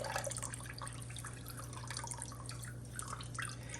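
Juice from blended fruits and vegetables drips and trickles steadily out of a squeezed cheesecloth, a continuous close, soft liquid patter with faint splashes and a low background hum.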